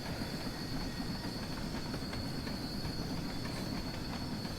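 In Train Sim World 2, a heavy train rolls downhill in winter conditions with a steady rumble, rhythmic wheel clatter and a thin, sustained high squeal from the wheels.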